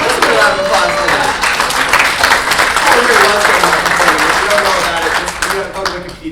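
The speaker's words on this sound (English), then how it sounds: "Let's give a round of applause for that." Conference audience at an equality event breaks into sustained applause, dense clapping filling the room at steady loudness for several seconds and tapering slightly near the end, with cheers and voices mixed in.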